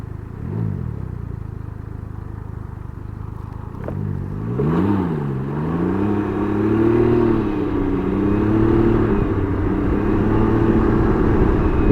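A Can-Am Ryker 900 three-wheeled motorcycle rides along, its engine a low droning hum that rises and dips in pitch with throttle changes over steady wind and road noise, heard close from the rider's position.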